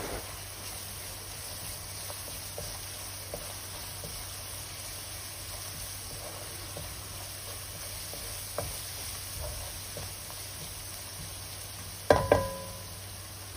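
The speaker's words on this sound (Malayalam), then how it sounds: "ഇനി ഇതിൻ്റെ കൂടെ തന്നെ നമുക്ക് ഒരു 2 ടേബിൾ സ്പൂണോളം ക്രഷ് ചെയ്തെടുത്ത ഇഞ്ചി ചേർത്തിട്ട് ഒന്നും കൂടെ നന്നായിട്ടൊന്ന് ഈ ഒരു ഗാർലിക്കൊക്കെ ഒരു ലൈറ്റ് ബ്രൗൺ കളർ ആകുന്നത് വരെ ഒന്ന് വഴറ്റി കൊടുക്കുക" Crushed ginger and garlic sauté in a pan for homemade Schezwan chutney, a steady low sizzle with occasional soft stirring clicks and a brief louder clatter near the end.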